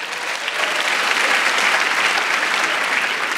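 Studio audience applauding on an Indonesian stand-up comedy competition show, a dense, steady burst of clapping from a crowd that swells after a brief start and holds loudly throughout, with no talk over it.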